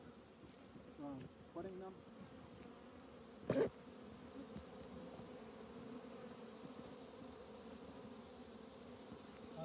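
Bees buzz faintly in a low, continuous hum outdoors, with a person briefly speaking and a sharp knock partway through.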